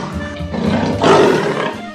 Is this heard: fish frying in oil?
no